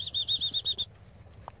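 Wings of a bird flushing from red thorn cover ahead of a young German Wirehaired Pointer on its first live bird, a quick burst of rhythmic flapping beats close by, then fading to quiet.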